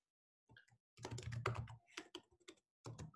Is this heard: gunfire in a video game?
no